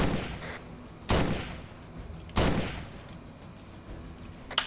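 Enemy gunfire in a sci-fi shooter game, two loud distinct gunshots about a second apart with echoing tails, plus a faint third shot at the end over low background noise.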